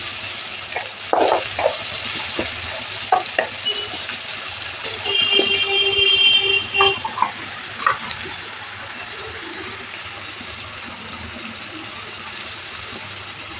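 One large onion fries in hot oil for a gravy curry, a faint steady sizzle underneath irregular clicks, clinks and scrapes from stirring, busiest in the middle and then settling.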